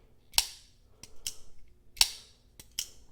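A Beyblade launcher fires out an Altus blade, giving sharp, dry snapping clicks in two close pairs, near and fairly muted, with no talk.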